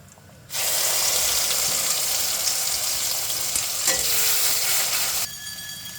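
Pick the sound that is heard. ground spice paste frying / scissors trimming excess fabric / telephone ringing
ground spice paste frying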